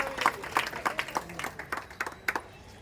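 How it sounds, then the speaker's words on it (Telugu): A small audience at a spiritual discourse claps in a sparse, uneven patter of distinct individual hand claps, moderately near and not very loud, with the clapping thinning out toward the end. "గట్టిగా చప్పట్లు కొట్టారు."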